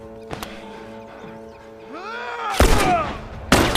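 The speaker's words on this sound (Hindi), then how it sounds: "गोली चला दी किसी ने" Loud gunfire from The Last of Us cracks out in two bursts over a background of synthetic game sounds and a swooping tonal effect.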